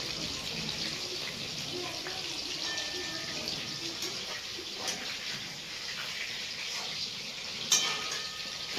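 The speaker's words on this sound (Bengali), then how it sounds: "চিলি চিকেনের পকোড়া ভাজা চলছে দুটো কড়াইয়ে।" Chilli chicken pakoras frying in two woks give a steady broadband hiss and sizzle, continuous throughout with a brief louder crackle near the end, heard at close range.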